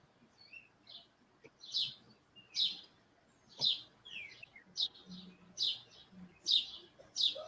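Birds chirp in short repeated bursts about every second, bright and fairly close, with faint low rustling underneath and no talking.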